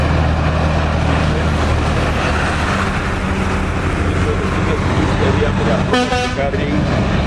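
Trucks roar past on a rural road in Bungoma, a steady loud engine and tyre rumble that fills the whole stretch, and a horn toots briefly near the end.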